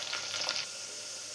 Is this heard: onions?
yes